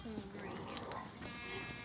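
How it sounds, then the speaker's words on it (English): Goats on a farm bleating, a couple of wavering calls, moderately near, mixed with a person talking. "What's making all that noise? The goats."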